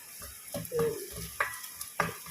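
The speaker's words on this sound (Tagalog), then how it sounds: "sasangkot siya na natin yung ating bawang" Garlic sautés in a pan beside milkfish, with a spatula scraping and tapping in several sharp strokes over a low, steady sizzle.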